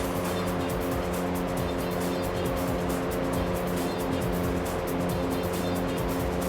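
A Mercedes-Benz race car with engine upgrades in Gran Turismo 3 drones steadily throughout, a continuous, loud engine note with a buzzy, lawnmower-like character and no break.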